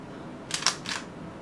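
Nikon D7000 DSLR shutter fired in quiet mode, the single frame drawn out into a soft, stretched mechanical sequence of two or three muffled clicks and a whirring return over about half a second, close and alone.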